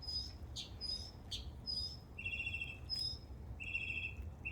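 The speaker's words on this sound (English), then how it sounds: "They're just listening to other birds." Small birds chirp and tweet in quick, bright repeated bursts over a steady low background hum, with crickets faintly present on a summer day.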